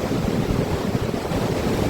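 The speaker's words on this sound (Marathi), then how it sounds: "लाटा उसळतात बघा मित्रांनो" Rushing surf of sea waves surging up a beach, a steady loud wash blended with wind noise on the microphone.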